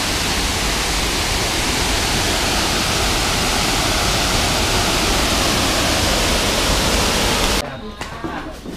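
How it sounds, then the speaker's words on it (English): A waterfall in Phetchabun, Thailand roars as a loud, dense, continuous rush of falling water up close, then drops off abruptly near the end into quieter outdoor background. "Nice waterfall."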